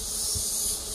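Swarm of wild forest bees buzzing densely right at an active nest in the woods, a continuous loud, close hum with no voices.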